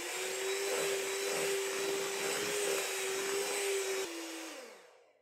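An electric hand beater whips orange cake batter with a steady, close motor whir that holds even, then cuts off and winds down to silence.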